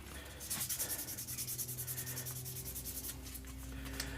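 A guitar body is sanded by hand with 600 grit sandpaper, giving a close, rhythmic scratchy rubbing of quick back-and-forth strokes that fades into steadier scraping.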